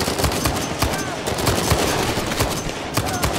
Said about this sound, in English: that is a really cool gun